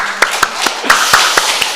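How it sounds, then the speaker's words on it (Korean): Hands clapping in a church congregation, sharp separate claps about every quarter second, loud and close, with no talk over them. "박수하겠습니다"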